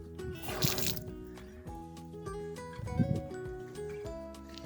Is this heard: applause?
no